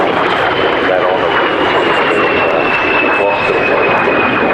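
A De Havilland Vampire T.11 jet flies at an air show, giving a loud steady roar with a thin whine gliding slowly downward, while a commentator talks over it.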